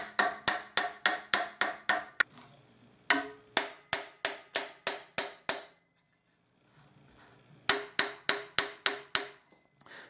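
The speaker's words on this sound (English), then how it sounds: "mallet works well on some of the dents that are really sharp, like in this area. So I'm going to tap on those." A mallet taps dents out of the brass bell of an old cornet. The sharp metallic knocks come in quick, even runs of about eight, break off for short pauses, and then start again, close and clear with no talk.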